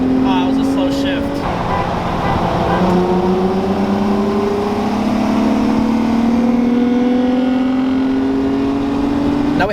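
A manual Infiniti G35 Coupe accelerates hard in a 40 mph roll race, its engine note climbing steadily through the gears with a brief dip at a shift, loud and close under wind and road noise, with some talk early on.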